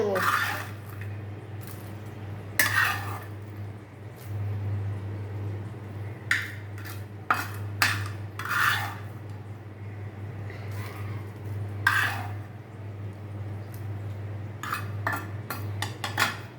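Black cumin seeds being ground together with garlic and chillies on a traditional sil pata grinding stone, giving intermittent scraping and knocking strokes in irregular bursts over a steady low hum, close and moderately loud.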